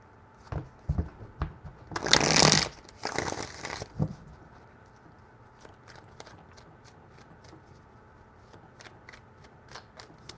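Tarot cards are shuffled by hand: a few light taps, then two loud bursts of riffling, then a scatter of soft flicks and ticks in a quiet room.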